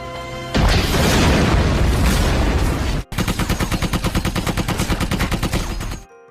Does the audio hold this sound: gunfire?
yes